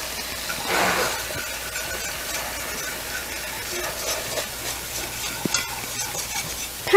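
Butter and flour for a roux cook in a pan with a soft, steady sizzle and hiss, with occasional stirring and light clinks of a utensil against the pan, close up and without talk.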